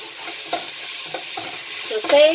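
Tomatoes sautéing in a pan for a ginger beef soup sizzle steadily while a utensil scrapes and stirs in a few short strokes, with a louder clatter near the end.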